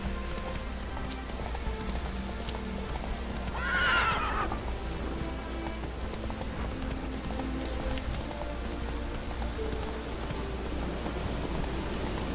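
Roach, a horse in The Witcher 3 video game, gives a single loud whinny amid steady hoofbeats, rain and game music, the neigh rising sharply and then falling away.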